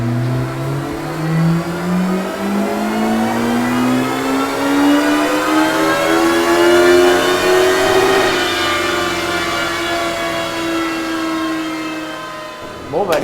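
A Honda CBR 1100XX motorcycle engine revs up steadily in first gear on a dyno, its whine climbing in pitch for several seconds before easing off, loud and close throughout.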